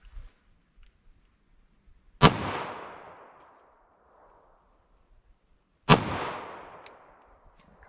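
Two sharp gunshots from Hornady Critical Duty .45 ACP rounds fired into wood, each a loud crack with a long fading tail, spaced a few seconds apart against near silence.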